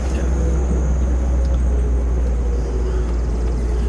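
A 1953 Buick Skylark convertible cruising along, heard from inside as a loud, constant low engine and road rumble with wind noise and no break.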